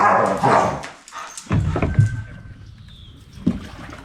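Dogs bark and yip in short bursts during play, with scuffling and whimpering noises in between, fairly close.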